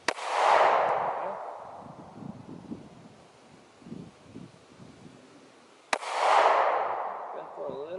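Two handgun shots fired at a beginner's shooting lesson, each a sharp close bang with a ringing decay, spaced several seconds apart, with faint rustling and wind noise between them.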